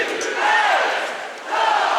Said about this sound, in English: A lot of noise being generated by the Blaze fans, trying to cheer their team home.